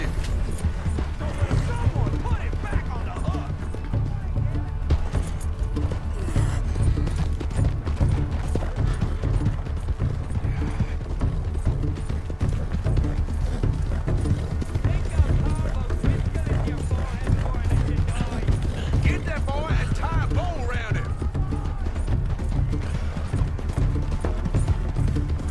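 Rhythmic hoofbeats of a galloping horse in Red Dead Redemption 2 thud steadily throughout, mixed with game noise and mechanical clatter, with a person talking over it.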